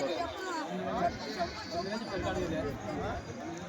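Goats bleat at a busy weekly goat market in Kadiri, with several calls rising over the steady chatter of traders and other voices around them.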